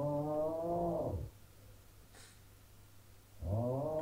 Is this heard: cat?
yes